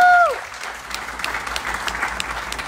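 Congregation applauding loudly at a pastors' wedding service in California, a steady dense clapping that fills the whole stretch after a brief tonal sound at the start.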